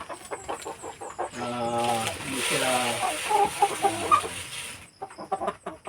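Free-range chickens and a rooster cluck and squawk in a lively, close cluster during feeding time on a backyard farm, with overlapping calls rising and falling in a busy rhythm.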